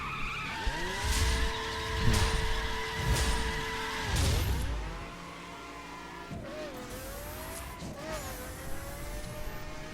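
Pagani Zonda F hypercar with 700 horsepower racing in The Crew, engine revving through rising gear pulls with repeated bursts and tire skids, then settling into a lower steady drone with brief squeals.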